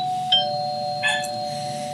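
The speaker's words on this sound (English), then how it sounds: "this ding dong, means that it is time for an exercise to begin." A two-note electronic ding-dong chime used as a cue, two clear bright strikes a bit under a second apart ringing over a faint steady tone, with no speech.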